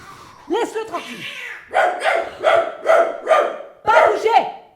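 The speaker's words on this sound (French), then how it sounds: "Gentil chien." A pet dog gives a run of short, sharp barks and yips in a rhythmic burst of about six, close and loud, with a person speaking to it around the barking.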